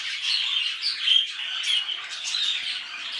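Rainbow budgerigars, including an opaline mauve hen with light wings and violet factor, chirp and squawk continuously in a dense, fairly close flock chatter with no voices over it.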